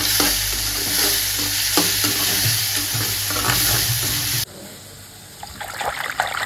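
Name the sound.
onions and tomatoes sautéing in pan for vatha kuzhambu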